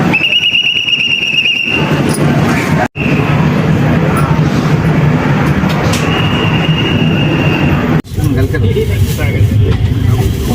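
A train rumbles loudly into a station, wheels squealing and grinding over the tracks, with people talking nearby amid the continuous din.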